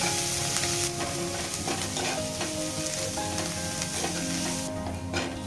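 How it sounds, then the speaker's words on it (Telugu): Finely chopped green chillies and coriander leaves frying in a pan for a puffed-rice snack: a dense, loud, unbroken sizzle that crackles close up throughout, with faint stirring beneath it. "1 కప్పు సన్నని కొత్తిమీర తరుగు వేసుకొని ఒక 2 నిమిషాలు వేగనివ్వాలి"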